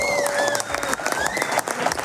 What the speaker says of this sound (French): Devant un public, on applaudit.